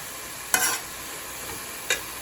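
Minced keema stir-fried in a pan with chili garlic sauce, giving a steady low sizzle broken by two short scraping stirs, one longer and louder and one brief, near and alone with no voices.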